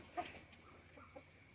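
Chickens clucking in a coop on an aquaponics farm: a few short, soft clucks scattered over a steady background hiss and a thin high whine, with no one talking.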